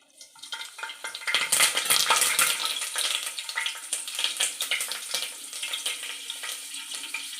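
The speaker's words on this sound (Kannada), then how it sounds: "ಎಣ್ಣೆ ಕಾದಿದೆ ಇವಾಗ. ಈಗ ಇದಕ್ಕೆ ಒಂದೊಂದು ಐಟಮ್ನ ಆ್ಯಡ್ ಮಾಡ್ತಾ ಹೋಗೋಣ. ಫಸ್ಟು ಬೇ ಲೀವ್ಸ್ ಹಾಕ್ತಾಯಿದ್ದೀನಿ" Bay leaves dropped into hot oil for a veg biryani, a loud sizzle that swells quickly, then settles into a steady frying hiss.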